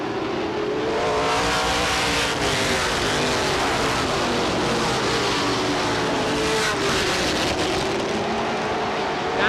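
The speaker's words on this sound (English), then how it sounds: "The field now single file, nose to tail down the back straightaway." Race cars running single file, nose to tail, down the back straightaway at Star Speedway, a continuous loud engine roar with shifting pitch as cars pass, close and unbroken for the whole stretch.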